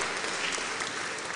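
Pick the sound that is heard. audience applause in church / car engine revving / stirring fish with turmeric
audience applause in church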